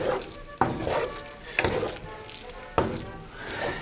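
Risotto with a squeeze of lemon is stirred in a pan, with soft scraping and wet sizzling and three sharp knocks of the spoon against the pan spaced through the clip.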